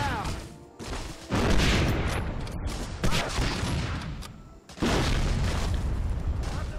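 Tank cannon fire and battle noise in Medal of Honor Frontline, heavy booming blasts and dense crackling gunfire in bursts, with loud impacts at intervals and a fresh surge of explosions late on.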